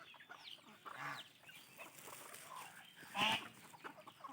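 Desi hens clucking nearby, a few short clucks and calls scattered over quiet background, one louder squawk toward the end.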